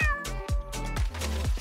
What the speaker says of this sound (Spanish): ¡Miau!